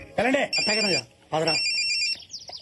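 A phone rings with a bright electronic tone while a person talks over it.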